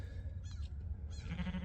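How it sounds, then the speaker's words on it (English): Sheep bleat close by near a farm's electric fence line, two short wavering calls about half a second apart, with a steady low outdoor rumble beneath. "howdy sheep. What are you guys doing?"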